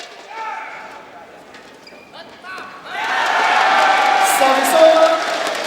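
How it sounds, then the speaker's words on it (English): Crowd erupts into loud, sustained cheering at an indoor badminton semi-final between Kepong BC and Cheras BC, following a quieter stretch of shuttle hits and voices, the roar holding steady to the end. "The noise from the crowd will tell you Tommy Sugiarto has got the first point."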